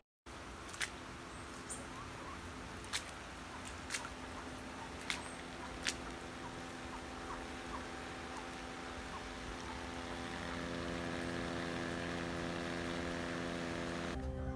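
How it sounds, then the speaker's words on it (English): A Superior Pump 1/4 hp 91250 thermoplastic utility pump draining a backyard through makeshift piping hums steadily and quietly. A few sharp ticks come early, and the tone rises and thickens toward the end. "you're going to get some uncut audio of the actual sound levels of the pump in operation"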